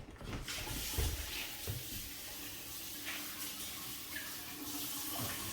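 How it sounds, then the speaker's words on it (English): Tap water runs steadily into a sink as hands are washed in a home kitchen while making meatloaf, a continuous close splashing hiss with small shifts in the flow, no talking. "Now let me wash my hands off."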